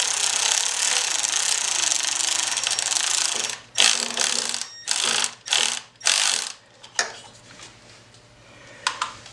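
Ratchet wrench tightening the mounting bolt on a new crank position sensor on a Harley-Davidson Dyna: steady close clicking, then short bursts of ratcheting with pauses between strokes, no talking.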